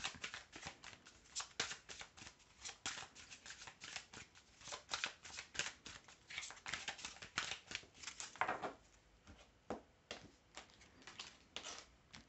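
Tarot cards are shuffled by hand for several seconds, giving dense, rapid flutters and riffling slaps that stay close and fairly quiet throughout, with no speech.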